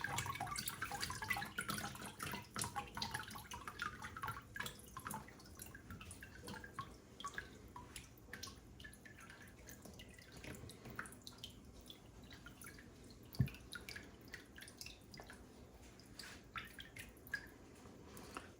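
Water from wet recycled shredded-paper pulp drips and trickles in a quiet run of small irregular splashes, faint and close, continuing steadily throughout.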